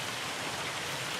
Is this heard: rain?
yes